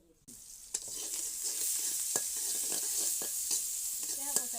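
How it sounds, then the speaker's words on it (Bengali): Onion and green chillies fry in hot oil in a home kitchen, a steady loud sizzle with several sharp stirring scrapes against the pan, no talking. "এখন আমি এই যে তেলে পেঁয়াজ কাঁচামরিচ দেবো।"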